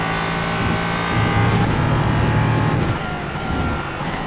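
An LMP3 prototype race car at Barcelona in iRacing, its engine droning loud and steady, with a rising rev pitch in the middle and then settling back, with no talk over it.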